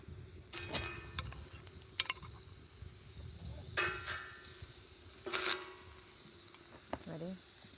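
Tomatillos frying in a hot pan at a cookout in Tequila, Mexico, giving a steady low sizzle with a few sharper crackling bursts and clinks, with people talking nearby.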